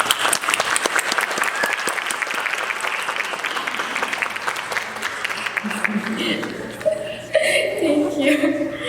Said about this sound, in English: let's applaud for all these wonderful,